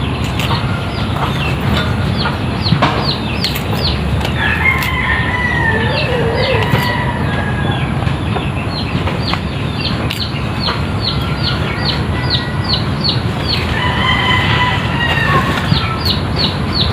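A rooster crows twice outdoors in the Philippines, surrounded by constant chirping from many small birds.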